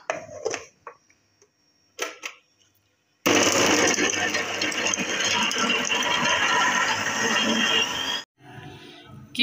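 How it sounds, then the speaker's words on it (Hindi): A food chopper minces chicken into keema for kebabs, a loud steady whirring grind running for about five seconds after a few short clattering handling noises, then cutting off abruptly. "अब चॉपर में डाल के इसका कीमा बना लेंगे चिकन का"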